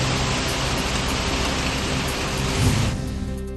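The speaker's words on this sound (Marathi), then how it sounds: "सिंधुदुर्ग जिल्ह्यामध्ये मुसळधार पावसाला सुरुवात." Heavy monsoon downpour in Sindhudurg district of Konkan, a loud dense roar of rain that fills everything, steady throughout and thinning slightly at the end, with no voices.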